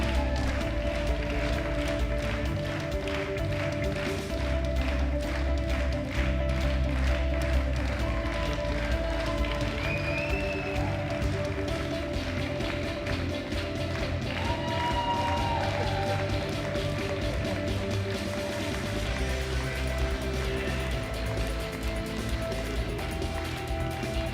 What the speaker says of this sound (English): Give them one more round of applause, ladies and gentlemen